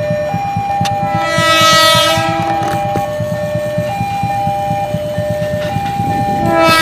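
A toy KRL commuter electric train running, with a rapid rhythmic clatter and electronic tonal horn-like melodies playing loudly and close throughout.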